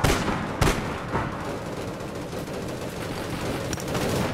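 Gunfire in the online game APB Reloaded: a loud burst of shots at the start, then dense, sustained firing and clatter continuing throughout.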